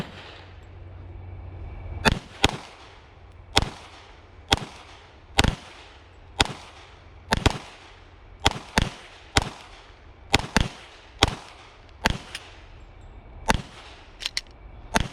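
Gunshots at an outdoor shooting range, about a dozen sharp cracks fired one at a time at irregular intervals of roughly a second, each loud and brief with a short fading tail.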